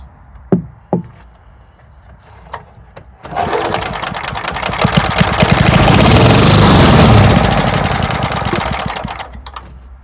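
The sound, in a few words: Sears and Roebuck push mower engine struggling to run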